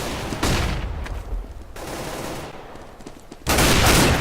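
In a Counter-Strike: GO match, a flashbang grenade goes off amid bursts of gunfire, loud broadband blasts separated by quieter stretches of rattling noise, with no talking.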